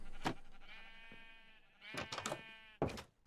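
Sheep bleating in a Minecraft farm pen, from a video game: a cluster of drawn-out, wavering bleats, one short call at the start, then overlapping cries later and a final loud bleat, close and fairly clear with no talk.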